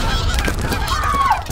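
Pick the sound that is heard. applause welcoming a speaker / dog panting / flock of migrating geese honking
flock of migrating geese honking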